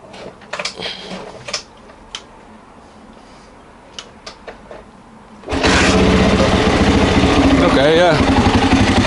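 A Honda XR600R motorcycle engine, already hot, fires up midway after a few quiet clicks and handling sounds, then idles loud and close with a steady thumping roar for the remaining seconds.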